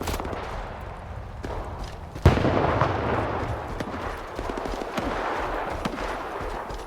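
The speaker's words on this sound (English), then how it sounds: "Who's shooting at me?" Gunfire in Stalker 2 cracks out as one sudden loud shot, followed by a lingering rumbling stretch of distant, scattered firing, with no one talking.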